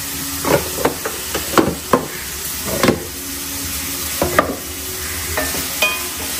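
Mutton chukka with curry leaves sautés in a deep iron kadai, a steady sizzle broken by a run of sharp scraping stirs and clinks of the ladle against the pan, close and fairly loud with no talking.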